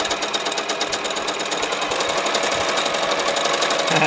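A sewing machine runs fast and continuously stitching bias tape, its rapid mechanical stitching rattle steady and close throughout.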